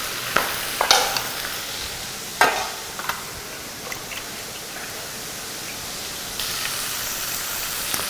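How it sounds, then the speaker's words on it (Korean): Tempura, battered in flour, fries in hot oil with a soft, steady sizzle and hiss, broken by a few sharp crackles and bursts as pieces settle in the oil; no speech. "거품도 커지고 소리도 이제 크지만 얘가 이제 익으면서 수분이 빠져나오면서 색깔도 좀 나고 그다음에 소리도 점점 줄어드는 이제 그런 형태로 이제 바뀌게 됩니다"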